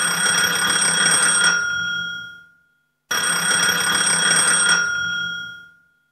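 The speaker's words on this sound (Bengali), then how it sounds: "তারপর ফের ফোন বাজল।" An old telephone rings in two identical bursts, each a bright continuous trill of about two seconds that fades out, separated by a short silence, clear and close.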